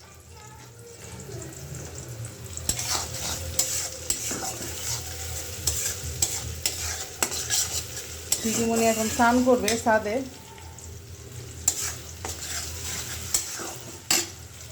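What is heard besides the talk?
onions frying with cumin in a pan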